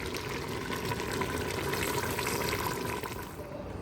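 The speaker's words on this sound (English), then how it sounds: "We're gonna put in 20 cups of water total into the soup." Hot water poured steadily into a large soup pot for a smoked sausage vegetable soup, a continuous close rushing gush and splash that runs unbroken before easing slightly at the end.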